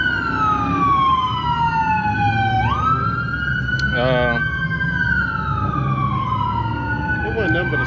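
A police emergency vehicle siren wails loud and close on an Atlanta street, sweeping up and down in long steady cycles with a brief warbling burst midway, and people talk underneath.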